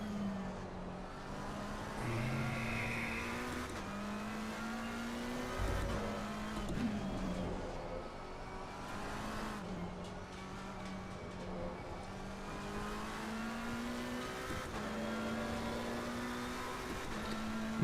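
A McLaren race car laps the track at Indy, its engine a steady drone that rises and falls in pitch through shifts, heard from inside the cockpit at a constant moderate level with no talk.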